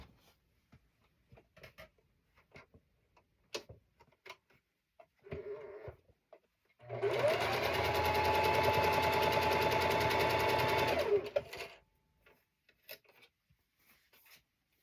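A sewing machine stitches cat-themed quilt pieces in one steady, continuous run of about five seconds. It is loud and close, with quiet handling noises before and after and no talk.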